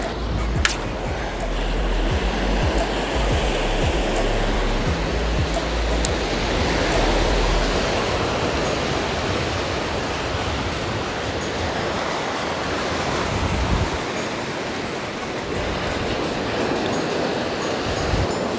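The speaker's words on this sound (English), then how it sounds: "Wind's right up my back today." Wind gusting steadily at a waterside fishing spot, a continuous broad roar buffeting the microphone, loud and close throughout with no speech.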